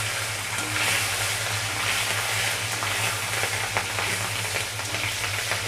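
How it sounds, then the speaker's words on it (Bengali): Whole cumin seeds and green chillies fry in oil with a soft, even sizzle under a low steady kitchen hum, fairly faint and without voices. "দিয়ে দেব গোটা জিরে, ভালোভাবে ভেজে নেব।"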